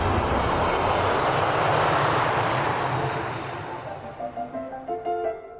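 A research aircraft roars loudly as it flies over the ocean, a broad steady engine drone that fades and thins toward the end, where a faint tonal hum and fluttering remain.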